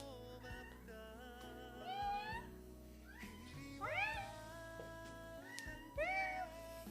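A cat meows several times indoors, rising drawn-out calls spaced every couple of seconds over a steady background hum, fairly close and clear with no talk over them.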